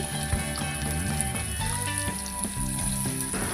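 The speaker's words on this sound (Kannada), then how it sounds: "ಉಳ್ಳಾಗಡ್ಡಿನ ಚೆನ್ನಾಗಿ ಬಾಡಿಸ್ಕೊಳ್ಬೇಕು" Chopped onions with curry leaves and green chillies fry in hot oil for girmit and churumuri, a constant close sizzle running under tonal background music.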